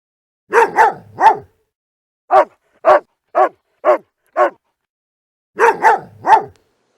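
A farm dog barks in three separate clusters: a quick triple, then five evenly spaced single barks, then another triple. The barks are loud and close, with silence between the clusters.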